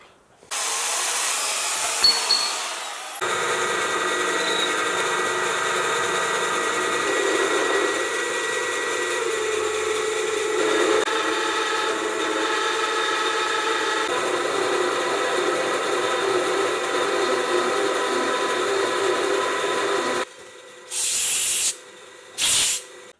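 Metal being cut off for the foot of a blacksmith's striking anvil and leg vise stand, a loud continuous hissing, grinding cut lasting about seventeen seconds, with a few short bursts after it stops.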